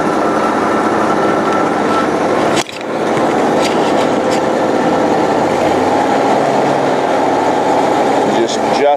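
Twin-engine hot and cold water trailer sewer jetter running steadily, a loud, continuous broadband engine and pump roar filling the whole clip with a brief dip partway through.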